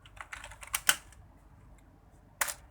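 Typing on a computer keyboard: scattered bursts of quick key clicks in the first second, a pause with low background hum, then another short flurry of keystrokes near the end, close and moderately loud.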